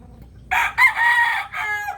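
A Golden Sweater gamecock rooster, a yellow-legged breeding bird from a game farm, crows loudly and close by in one long harmonic call with a brief break near its end.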